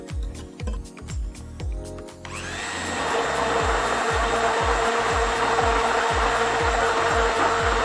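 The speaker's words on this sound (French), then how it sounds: "Ce mélange tout simplement on va le mixer pour activer la gomme de xanthane." Strawberries with xanthan gum and dextrose are whirred in a blender: after a few rhythmic pulses the motor settles into a loud, steady, continuous whine and grind, close and alone.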